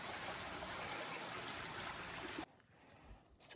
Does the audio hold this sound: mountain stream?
yes